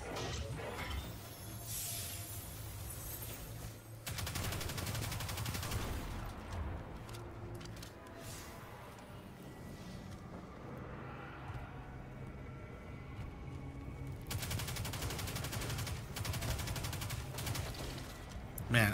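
Player gunfire in Destiny 2, with repeated bursts of shots and fusillades across a busy game soundscape, loud at the start and end and quieter in the middle, with mechanical clatter and no talk over it.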